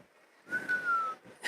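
A referee's whistle blows during a hockey game, a single sustained shrill tone of about half a second amid arena crowd noise, followed by a brief second chirp.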